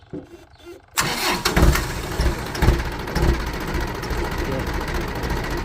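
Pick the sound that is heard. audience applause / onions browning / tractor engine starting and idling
tractor engine starting and idling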